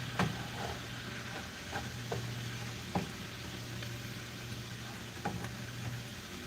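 Onions and lettuce sauteing in a pan in a home kitchen, a steady soft sizzle with occasional faint clicks and stirring taps, low and continuous with no talking.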